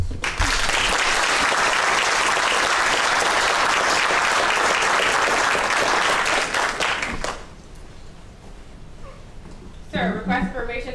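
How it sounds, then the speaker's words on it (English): Loud, dense applause from a large audience at a military graduation ceremony at Fort Lee, Virginia, sustained for about seven seconds and then dropping away into quieter room sound, with a voice starting up near the end. "please give a well-deserved round of applause for today's graduate"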